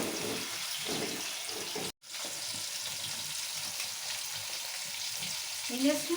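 Basmati rice being washed in water in a home kitchen, a steady sloshing, rinsing wash with a brief pause partway, close and moderately quiet, with a few words spoken.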